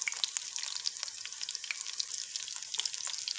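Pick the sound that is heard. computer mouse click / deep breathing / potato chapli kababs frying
potato chapli kababs frying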